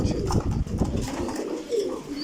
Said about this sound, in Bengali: এখানে বিশ পেয়ার কবুতর আমি ব্রিডিংয়ে দিছি